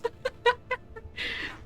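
Chickens cluck outside a shed: four or five short, clear clucks in a quick series, then a longer raspy squawk. The sounds are fairly close but quiet, and no one speaks.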